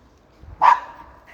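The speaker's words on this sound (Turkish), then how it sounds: "Havlama yavrum. Havlama kızım." A single sharp dog bark, fairly close and clear, standing out against a quiet background, followed by a faint trailing sound.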